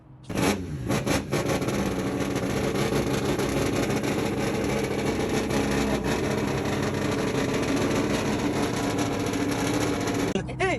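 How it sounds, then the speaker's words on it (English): Car engine at a car meet bursting to life and then revving hard, a loud, sustained, throaty roar that holds steady for about ten seconds before cutting off abruptly. "don't even get me started on how it sounded"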